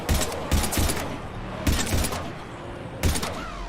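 Gunfire in Mass Effect 3 comes as four sharp bursts of rapid automatic shots, loud and close, separated by short pauses with a faint background hum.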